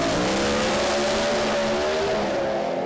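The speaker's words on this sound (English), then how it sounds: "Bumping in towards the start beams on the rev limiters" Two Pro Stock drag cars, a yellow Monaro and a Pontiac, idle forward toward the start beams on their rev limiters at Sydney Dragway, a loud sustained engine drone with wavering pitch that fades slightly near the end.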